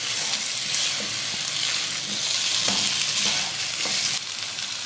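Frying in a pan toward light golden for a creamy chicken dish, a loud steady sizzle and crackle with faint stirring knocks throughout.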